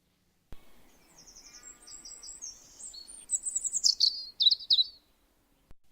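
Several birds chirp and tweet in quick bursts, growing busier and louder toward the end, with a sharp click at the start and quiet outdoor background.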